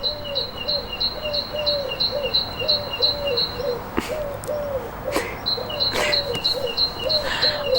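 A bird sings nearby, repeating a short high whistled phrase in a steady rhythm, pausing briefly mid-clip before resuming, with a few soft knocks in between.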